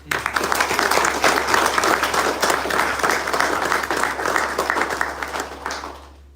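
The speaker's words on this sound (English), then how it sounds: "Can we give all of our supporters a big round of applause?" Applause fills the room at a ribbon cutting for a neighborhood center, a full, sustained burst of many hands that carries on for several seconds before tapering off, with a low steady hum underneath.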